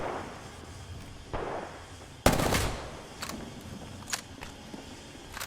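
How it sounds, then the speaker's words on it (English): Full-auto weapon fire in the video game Apex Legends, stuttering from lag. The shots come as uneven bursts and isolated sharp cracks, with one loud burst followed by scattered, broken shots. "like you can't even use this weapon full auto, like this is how laggy it is"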